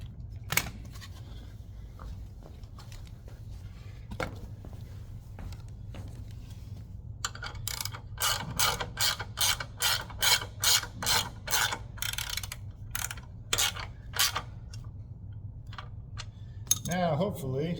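Rapid ratcheting clicks from a 14 mm wrench tightening bolts on a Schwinn AC exercise bike, coming in quick close bursts over a low steady hum, with a few isolated clicks before and a sharper clunk at the end.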